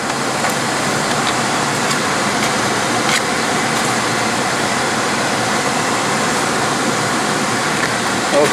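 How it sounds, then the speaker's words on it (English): Heater blower fan running inside a 2015 Ford Transit 250 van, a steady, even broadband whoosh of moving air that holds constant throughout with no change in pitch or level. "and the fan is blowing."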